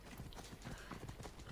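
A horse's hooves clip-clop steadily in Assassin's Creed Odyssey, an even trotting rhythm that stays quiet throughout with no talk over it.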